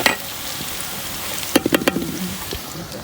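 Meat sizzles steadily in a hot pan with softened onions, a constant frying hiss with a few close stirring clatters and scrapes midway, no talking.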